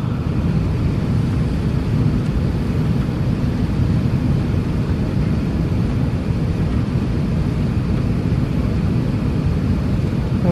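Steady, loud broadband roar of an Emirates airliner landing on the runway, heard from inside the cabin, a constant low rumble with no talking.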